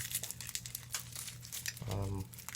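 A garlic clove being peeled in a hot home kitchen, a short close papery crinkle of the skin under a man's speech.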